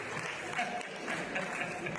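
An audience cheering section at an aquatics awards ceremony gives muted cheering and applause, a faint, diffuse crowd sound heard over a short stretch.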